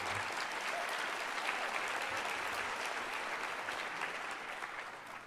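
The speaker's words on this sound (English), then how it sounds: "That deserves a round of applause." An audience at a city's State of the City address breaks into sustained applause, a dense, loud wash of clapping that holds steady for several seconds before starting to taper off.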